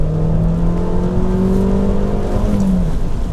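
An Abarth 595C Turismo accelerating, its loud, steady engine note rising in pitch from inside the car with no talking.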